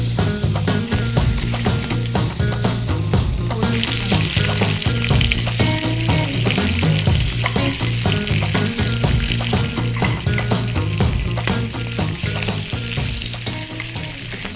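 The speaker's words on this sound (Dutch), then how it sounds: "Vlees in de pan." Lamb fillet sizzles hard in hot oil and butter in a frying pan, a loud, steady frying hiss with crackling spatter throughout, no talking.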